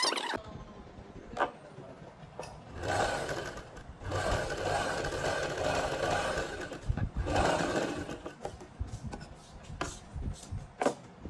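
A sewing machine stitches the neckline of a Punjabi suit, running in steady mechanical bursts with short pauses and clicks between runs, close and fairly loud, no talking.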